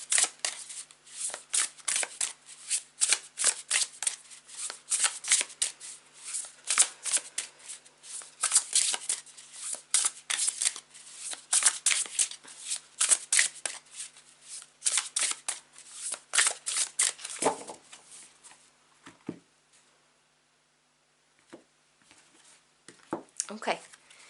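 A tarot deck is shuffled by hand in rapid close riffling bursts for about eighteen seconds, crisp and loud, before a few scattered card taps and then quiet.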